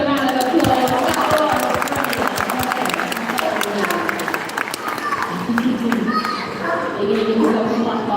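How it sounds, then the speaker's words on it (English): A crowd of spectators claps at a seal and sea lion show, sustained applause with excited children's voices and chatter blended in throughout. "Give them another round of applause"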